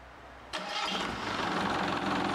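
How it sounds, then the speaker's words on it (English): After a short quiet hum, a Yanmar 4LHTE four-cylinder turbocharged marine diesel engine cranks and catches abruptly, settling into a loud, steady rumbling idle with a rattling diesel character. "The Yanmar 4 LHTE is a 4-cylinder, turbocharged marine diesel engine"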